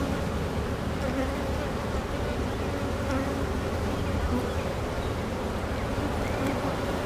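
Honeybees on a hive frame lifted from a colony with an active, heavily laying queen, producing a steady, dense buzzing drone that holds evenly throughout, close and full with no talking.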